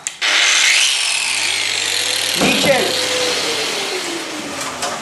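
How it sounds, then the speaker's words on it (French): A wall chaser grinds loudly and steadily into a wall, cutting a channel for electrical conduit, with a vacuum running underneath, a brief low thud midway; a voice speaks briefly at the start. "quand je démarre la machine, l'aspirateur démarre."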